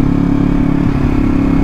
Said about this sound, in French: Oh bah moi je préfère être à moto hein